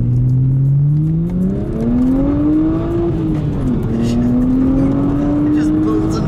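BMW 135i accelerating hard, engine note climbing steadily through the gears with a brief dip at a shift, loud and close from inside the cabin, with people talking over it.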